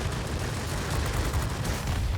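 Rapid aircraft cannon fire in the World of Warplanes game, a dense continuous rattle of shots with heavy low rumble, loud and close for the full stretch.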